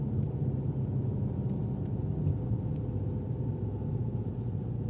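A Fiat Egea Cross 1.4 engine drones in a steady, low rumble from inside the car as it takes a sharp curve while climbing Palandöken mountain in a low gear.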